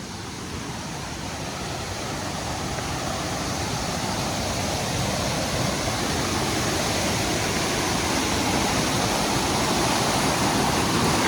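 A fast-running stream in the Appalachian mountains, next to a trail bridge, rushes in a loud, steady, close-up roar of broadband water noise with no talking over it.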